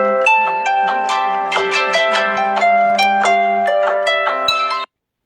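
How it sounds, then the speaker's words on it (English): A phone or clock alarm set for an afternoon walk plays a loud, steady melodic tone pattern of repeated chiming notes, running continuously for about five seconds before cutting off abruptly, with no talking over it. "That was my alarm."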